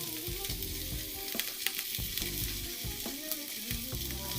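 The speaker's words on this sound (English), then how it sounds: "The pan is already hot, so let that get in there. Let it heat up, get the temp, then just sear it off." Ham sears in a hot oiled pan with a steady, close sizzle and scattered crackles and pops from the meat. No one speaks.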